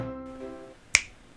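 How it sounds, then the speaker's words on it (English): A single crisp finger snap rings out sharply near the end, close and clear, following a brief fading musical tone. "Oh, you snapped your fingers."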